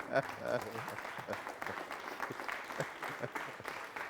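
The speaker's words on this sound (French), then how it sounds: "Je vais vous demander de faire beaucoup d'applaudissements pour ce garçon" Studio audience applause on a Burkina Faso TV variety show, a steady wash of clapping for about four seconds with a voice talking over it.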